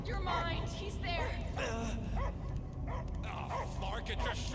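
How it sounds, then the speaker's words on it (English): Dogs bark and whimper in a video game scene, mixed with character dialogue and loud game sound throughout. "I hear only barking."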